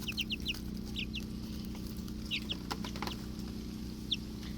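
Young Brahma chickens and roosters cluck in short, high chirping bursts scattered across the clip, fairly faint against a steady low background hum.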